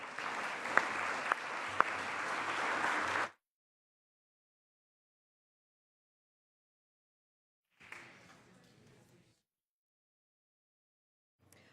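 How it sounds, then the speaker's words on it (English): Applause in a state senate floor session for the Shoulder to Shoulder group, a short burst of clapping with a few sharp claps, then silence, a brief fainter patter and a final trace. "If we could give them a round of applause"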